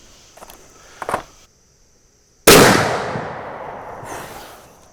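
Faint handling noises, a brief pause, then one loud sharp muzzleloader rifle shot whose boom decays over a couple of seconds, followed by light rustling.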